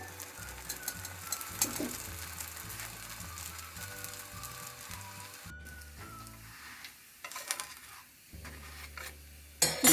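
Paratha on a hot tawa griddle, a faint crackle and soft sizzle of frying dough with occasional scraping and handling noises, quiet and close, ending with a sharp clatter.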